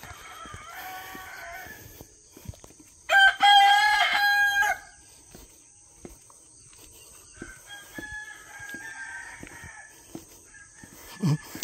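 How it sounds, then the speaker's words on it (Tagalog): A rooster crows once, loud and near, in a long raspy call, with faint clucking and distant bird sounds before and after against a quiet yard. "May manok pa dun."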